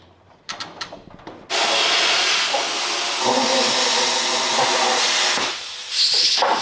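Loud, harsh continuous hiss of a cutting torch or plasma cutter slicing a cross member out of car frame rails on a demolition derby build, starting after a few short bursts and running steadily with a brief drop near the end.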